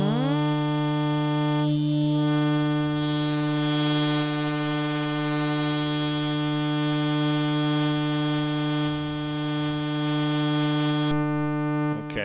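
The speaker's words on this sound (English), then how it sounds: "This is the square wave that we're listening to here going into the Just Friends." Steady buzzing synth drone from a Just Friends module (v1 Silver Clouds) under audio-rate modulation by a square wave, rich in stacked harmonics, constant and loud throughout before briefly shifting near the end.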